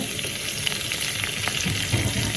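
A ladle of oil and a lump of butter sizzle in a hot pan for mutton fry, giving a close, continuous crackling hiss with small spattering pops and a faint scrape of stirring.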